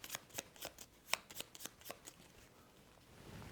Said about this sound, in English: take the remaining cards, 3 1s and 3 2s, give those a shuffle